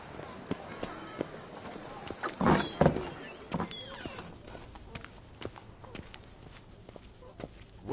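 Horse hooves clip-clop at a rhythmic trot in Witcher 3 Blood and Wine, with brief voices, a short snort and other game effects mixed in.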